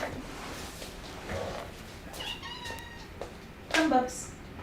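A pet cat meows indoors, a short tonal call near the end, louder than the faint room noise and a brief earlier murmur.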